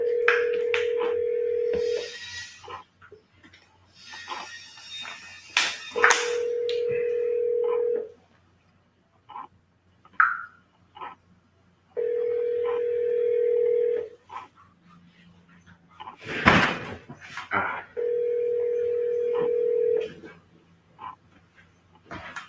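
A phone call rings out over and over, with repeated long ring tones spaced a few seconds apart, brief dialing and handling clicks between them, and faint voices in the gaps.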